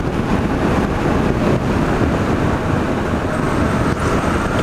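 A Yamaha MT-07 naked motorcycle engine roars steadily while riding along a coastal road in Natal, Brazil, buried in a constant rush of wind and road noise.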